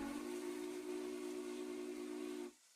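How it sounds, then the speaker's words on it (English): A steady, fairly faint steam whistle from a Union Pacific Big Boy 4014 locomotive in a train-simulator game blows as one held blast for about two and a half seconds, then cuts off abruptly. "So this is the number 4014's whistle."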